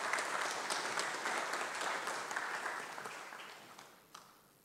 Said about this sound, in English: please, may we put together a round of applause